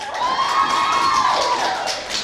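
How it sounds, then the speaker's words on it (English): An enthusiastic crowd of well-wishers cheers and shouts a welcome in New York City, a dense, bright roar of many voices sustained across the whole moment. "she is greeted by an enthusiastic crowd of well-wishers"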